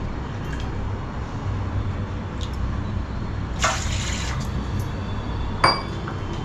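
Water poured from a cup into a pot to make dough for steamed ukadiche modak, a brief rushing splash that rises over a steady kitchen hum and ends with a light clink.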